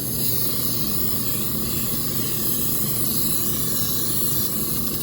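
A steady airbrush hiss of spraying water, even and unbroken throughout, fairly quiet and close.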